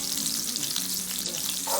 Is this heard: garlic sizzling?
yes